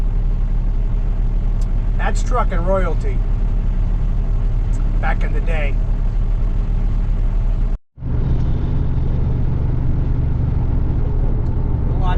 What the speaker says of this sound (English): That's an old Ever-Ready trucking truck right there.